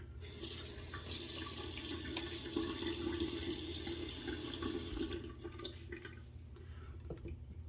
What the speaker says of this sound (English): I'm gonna wet my face real quick